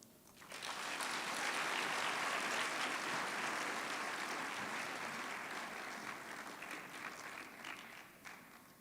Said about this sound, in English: A round of applause for the University of Johannesburg.